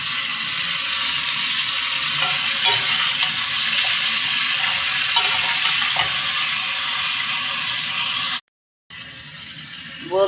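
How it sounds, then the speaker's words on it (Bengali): Okra and potato pieces fry in a pan with a loud, constant sizzle and faint stirring clicks, cutting out briefly before resuming. "ঢেঁড়স এবং আলুগুলোকে আমি এখন একটু ভেজে নেব।"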